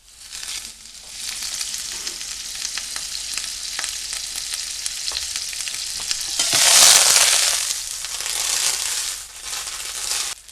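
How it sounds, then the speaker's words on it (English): Butter hitting a preheated, slightly too hot mushroom pan gives a steady, loud sizzle that builds into a brighter, crackling burst midway, then eases off, with no talking. "we're going to throw some butter in there"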